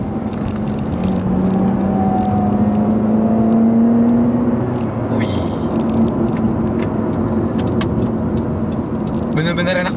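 A 2013 Honda Accord 2.4 in sport mode accelerates hard, with the engine note rising in pitch as it pulls through the gear, heard from inside the cabin over road noise.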